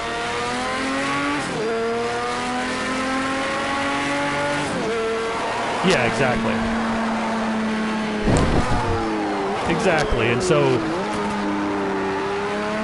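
A Can-Am race car in Project Cars 2 revs hard through its gears on the Daytona circuit, engine note climbing and dropping with each shift while tires squeal in the corners, with people talking over it.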